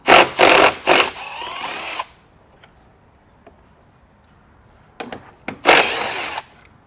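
Power drill driving out 10mm screws on a 2025 Jeep during a base plate kit installation, heard as several loud whirring bursts near the start and again at the end, separated by a quiet pause.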